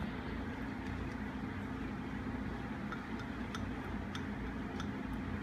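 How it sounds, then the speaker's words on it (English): A loose pulley wobbles on the shaft of a running Craftsman Atlas lathe, making faint, irregular ticks and knocks over a quiet, constant mechanical hum. "the pulley is loose from the shaft, it's wiggling back and forth."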